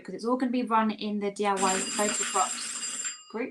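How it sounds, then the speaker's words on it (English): A doorbell rings partway through, giving a bright, sustained chime that rings on for over a second and fades while a person keeps talking over it. "that's just a doorbell if you wonder what that sound is"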